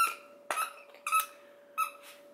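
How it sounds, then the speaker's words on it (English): A dog squeaks a squeaky toy in quick bursts, four sharp rubbery squeals close to the microphone separated by short pauses, over a faint steady hum. "she likes to squeak her toys."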